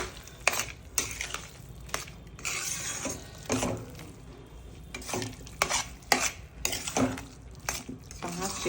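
Paneer carrot halwa with cardamom powder, raisins, cashews and almonds being stirred in a pan, with repeated scraping and clinking of a spoon against the metal, coming in irregular bursts close by.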